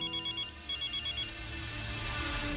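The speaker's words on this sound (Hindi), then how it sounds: "अरे मोना दीदी का फोन आ रहा है" A telephone rings in two short bursts of rapid electronic trills, loud and close, then fades into a low background hum with no talk.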